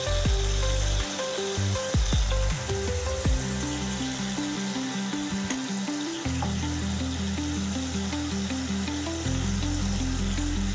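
Tomatoes with turmeric fry in a pan for egg curry, a steady close sizzle broken by a few clinks and stirring scrapes early on, with no talking.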